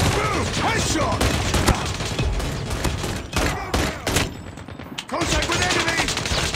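Pistol gunfire in Call of Duty Mobile on the Scrapyard map rings out in rapid, dense bursts of shots, loud and continuous, with short pauses between volleys.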